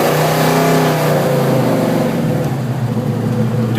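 A 1971 Chevelle SS 396 V8 revs loudly and steadily while driving at speed, its deep engine drone rising and falling close up throughout, with no talking.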